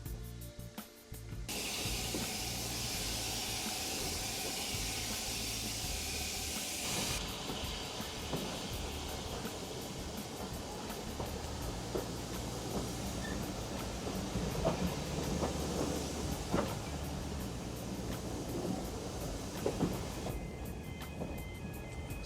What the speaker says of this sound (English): So here we are, leaving Sheringham for the second time, but on the steam train this time.